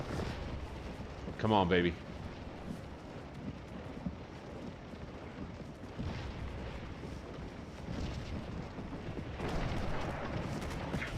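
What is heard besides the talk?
gunfire and artillery in Scourge of War: Gettysburg video game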